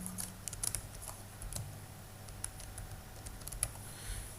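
Keystrokes on a computer keyboard spelling out a short word, a handful of faint, scattered clicks spread across a quiet background.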